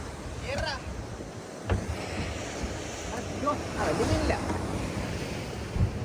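Sea waves wash and surge steadily as a boat heads out onto the sea in the early morning for scuba diving, with wind buffeting the microphone throughout and voices talking in the background.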